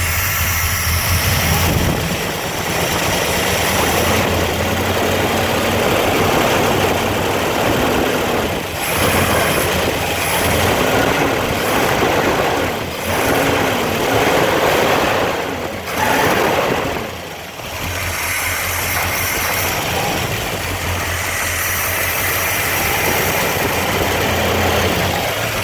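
A Mopar small-block V8 with dual four-barrel carburetors idles loud and close, a steady low rumble with slight lope and wavering, running continuously throughout.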